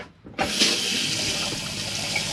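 After a brief near-silence, water gushes steadily from the tap of an Elddis Signature 185 caravan, a constant hiss that holds to the end.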